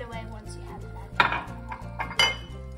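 Heavy cream being whisked into a sauce in a pot, light rhythmic metallic clinks and scrapes of a whisk against the pan, close but fairly quiet, no talk.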